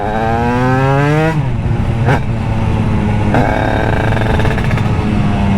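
A tuned 100cc Derbi two-stroke moped engine revs up with a rising whine, drops back, then blips again, loud and close with a raspy buzzing tone.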